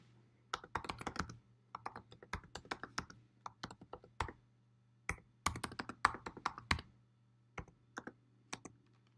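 Bursts of quick typing on a computer keyboard entering a new file name, with short flurries of key clicks separated by brief pauses over a steady low electrical hum, close and clear with no voices.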